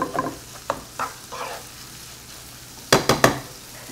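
Lean sausage frying in a pan, soft sizzling with several scraping stirs early on and a quick cluster of three sharper utensil scrapes near the end, close and moderately quiet.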